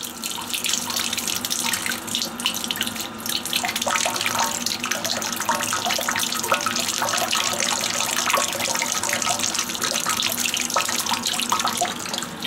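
Collected water pours strongly through a line in a steady, loud, continuous rush like an open tap filling a basin, with faint dripping and splashing over it and no one speaking.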